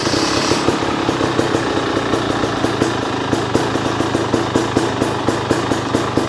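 A KTM 300sx two-stroke dirt bike with fuel injection, a stock ECU and a Bill's pipe exhaust runs on a dyno, its loud, close engine holding a steady, rapid pulsing idle throughout.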